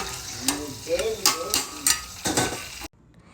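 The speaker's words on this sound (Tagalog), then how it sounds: "Ayan na po ang ating lechon belly, mga kadaldal. Kasalukuyan po siyang ipinipirito at ibinibiling-biling." Lechon belly pork sizzles in hot oil while being turned, with repeated utensil scrapes and clatters against the pan over a steady frying hiss before it cuts off abruptly.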